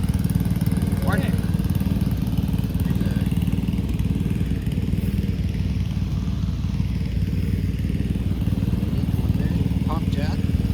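A hit-and-miss engine chugs steadily at a steam show, one of the small miniature engines, its low rhythmic putter running continuously beneath crowd noise and nearby voices.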